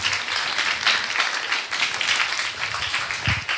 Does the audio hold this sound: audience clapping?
yes